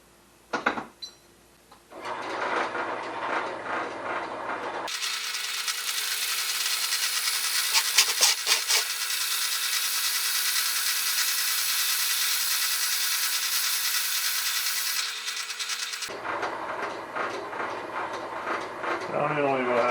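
A Forstner bit bores into a cedar log for a birdhouse. The drill runs loud and close for about eleven seconds with a rough grinding whir, framed by wood scraping and handling noises before and after.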